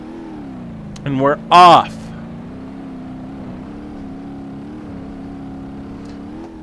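An Ibishu Pessima car engine in the BeamNG.drive video game gives two short, loud revving bursts, then settles into a steady low drone. Someone speaks briefly near the start.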